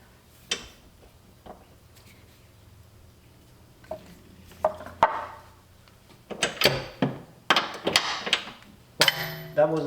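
Socket and breaker bar working an 18mm front lower control arm bolt on a BMW E90, giving a series of sharp metallic clicks and knocks that grow busier toward the end, with a voice talking nearby.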